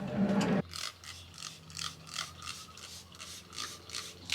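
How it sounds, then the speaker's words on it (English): A handheld spray bottle misting clothes outdoors, heard as about eight quick hissing spurts in a steady rhythm, following a brief louder burst of noise at the start. "Right now I'm gonna go ahead and spray it all and then hang it to dry."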